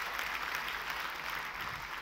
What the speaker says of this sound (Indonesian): kalau mau tepuk tangan yang paling meriah saudaraku